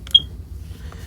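A single short, high-pitched electronic beep from a CareTech ZeitGeist talking clock entering sleep mode, over a low background hum, followed by a faint softer tone.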